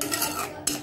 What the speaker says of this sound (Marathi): थोडंसं मिक्स करून घेऊ।